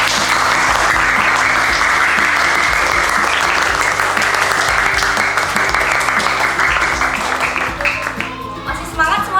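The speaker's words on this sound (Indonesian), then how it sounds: "Tepuk tangan dulu." A primary school class claps together in a loud, dense burst of applause that sustains for several seconds before thinning out and fading at the end.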